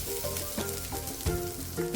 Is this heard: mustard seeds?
yes